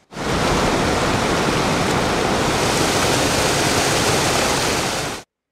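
Flood water rushes under a bridge in a steady, loud, broadband roar that holds unbroken for several seconds, with no voices.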